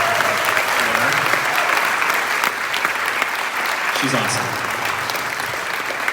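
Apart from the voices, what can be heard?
audience applause at a school band concert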